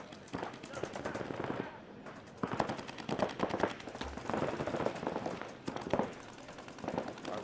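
Paintball markers firing in rapid bursts and steady volleys during a competitive paintball match, a dense crackle of shots from mid-distance continuing throughout, with commentators talking over it.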